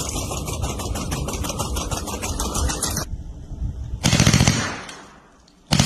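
A budget armed robot fires its mounted gun while driving over rough off-road terrain: a long, rapid, loud stream of shots, a brief pause, a second shorter burst, then fire resuming at the end.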